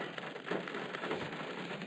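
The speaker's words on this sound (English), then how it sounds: "I'm just going to have to sit here and wait now until this rain stops" Steady rain pattering on a surface outside a camper or tent, a dense even hiss of drops heard close up with no voices.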